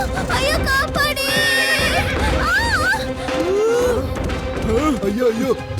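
A horse whinnies and neighs repeatedly as it runs off, wavering high cries over a busy dramatic scene with shouting voices and background music-like tones, fairly loud throughout.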